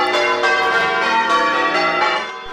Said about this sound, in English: to mark the removal of the 8 bells and ring the changes for the last time